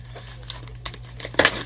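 Gift packaging box being opened, with scattered crinkles and light clicks building to a louder burst of crackling plastic and cardboard near the end, close up and without speech.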